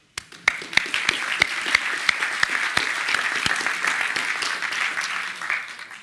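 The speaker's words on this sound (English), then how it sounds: "So also a big round of applause to you." An audience at a tech conference talk breaks into applause: a few sharp early claps swell into sustained, fairly close clapping that tapers slightly toward the end.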